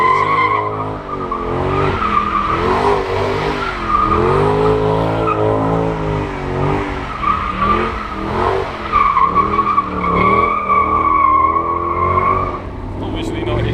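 A car's tires squeal loudly and continuously with a wavering pitch at the Goodwood Festival of Speed, the engine roaring beneath. A crowd can be heard in the background.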